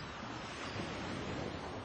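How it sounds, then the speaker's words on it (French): Sea waves wash over the foreshore near Barfleur in France, a continuous broad rushing surf mixed with wind, steady and fairly close, with no voices. "Les journées sont bercées au rythme du son des vagues sur l'estran et des cris des oiseaux."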